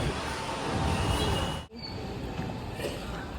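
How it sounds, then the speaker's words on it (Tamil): A Bangalore metro train arrives at a station platform with a broad rumbling rush of wheels and air, cut briefly by a sharp drop, then a steadier hum with faint squeals; no clear talking. "மெட்ரோ வந்தாச்சு."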